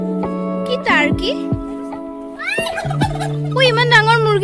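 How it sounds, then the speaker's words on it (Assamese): Turkeys at a farmyard gobble in loud, rapid warbling bursts close by, several calls overlapping as a person speaks over them. "ইমান ডাঙৰ মুৰ্গীটো। টাৰ্কি এইটো।"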